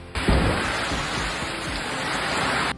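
Heavy typhoon rain pours down in Samar, Philippines, a dense continuous roar of downpour with a low rumble underneath, loud and steady throughout without speech.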